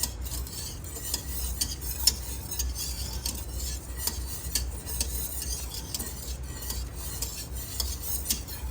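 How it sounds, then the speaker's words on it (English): Elderberry jelly at a rolling boil in a pot, stirred steadily with a utensil scraping and clinking against the metal, a continuous bubbling hiss underneath and no talking. "Got to keep on stirring."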